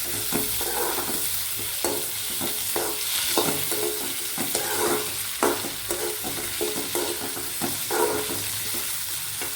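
Onions and curry leaves sautéing in oil for a bitter gourd kuzhambu, with a steady close sizzle and repeated scraping stirs of a spoon against the pan.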